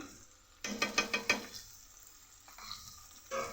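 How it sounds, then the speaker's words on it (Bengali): Chopped onions with green chillies and salt sizzle in a pan over a high gas flame, with a quick run of stirring scrapes and a fainter sizzle trailing after, close and alone without talk. "পেঁয়াজটাকে ভালো করে ভাজবো। গ্যাসের ফ্লেমটাকে হাই করে দিলাম।"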